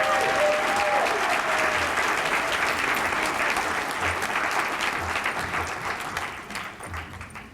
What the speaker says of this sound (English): Let's have a round of applause for Jesslyn Wilson.